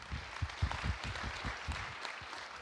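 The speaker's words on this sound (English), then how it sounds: "So let's give applause for the Cobook." An audience at the TechChill Baltics 2014 startup conference claps in a brief burst that sounds fairly faint and distant, with uneven individual claps over a few seconds.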